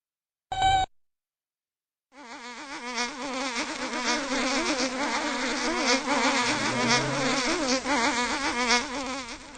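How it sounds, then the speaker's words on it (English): A dense, continuous whine of buzzing mosquitoes swells in after a brief tone and silence, loud and close, wavering in pitch for several seconds. "the mosquitoes are out in droves today"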